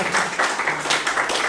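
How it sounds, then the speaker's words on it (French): A church congregation applauds a graduate, producing a short, dense, continuous wash of clapping that stays fairly loud throughout. "On peut applaudir pour Ève"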